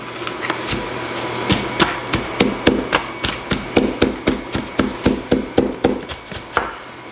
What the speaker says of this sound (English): you can kind of scrape on them and beat on them and they're not gonna break